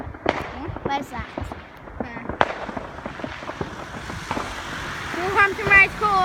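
Bonfire night fireworks display at Wolverhampton race course, with scattered bangs and crackles popping throughout amid loud crowd chatter and people talking nearby.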